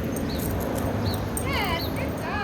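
High-pitched puppy whimpers and short yips, a few thin rising cries over steady background noise.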